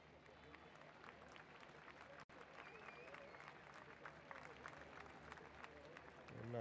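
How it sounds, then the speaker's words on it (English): Sustained applause from a crowd at a Frankfurt football stadium during a women's Bundesliga match on a wet night, a steady, dense clatter of clapping throughout with a brief dropout midway. "A nice round of applause from this Frankfurt crowd."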